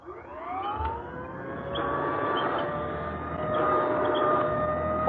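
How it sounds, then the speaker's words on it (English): An old-style vacuum sweeper in motion whines loudly and continuously, its motor pitch rising slightly at the start and wavering as it is pushed, with faint clicks and bumps along the way. "This, the sweeper in motion?"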